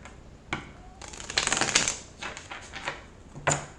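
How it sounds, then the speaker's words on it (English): Deck of tarot cards being shuffled by hand, a close riffle of rapid flicking snaps building in the middle, with a few sharp taps before and after. "One more shuffle."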